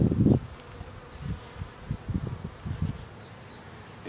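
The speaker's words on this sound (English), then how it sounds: "And you can see all the bees" Honey bees buzz around a hive during spring management, several short close buzzy passes in a row over a quiet background, with no talk.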